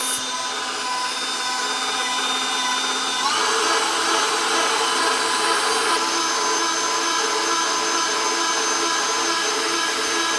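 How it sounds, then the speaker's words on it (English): An electric mixer whips heavy cream toward soft peaks in a home kitchen, giving a steady, close motor whir with a high buzzing edge that shifts slightly in tone partway through and runs without a break. "It's there, so now I'll shut off my mixer."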